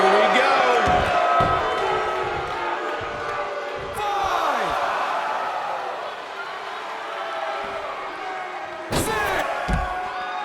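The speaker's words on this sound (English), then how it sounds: "by the sound of this crowd, I think they're getting what they wanted" Crowd noise from a wrestling video game match, with loud slams and impacts punctuating a steady roar while a commentator talks over it.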